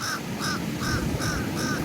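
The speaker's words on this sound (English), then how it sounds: "the birds are yelling behind me" Birds caw repeatedly near a choppy ocean, five evenly spaced harsh calls over a steady rumble of wind and surf, loud and close.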